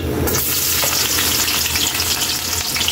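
Garlic hits a hot pan for pork menudo with a sudden loud burst of sizzling that settles into a steady, intense frying hiss, close and alone.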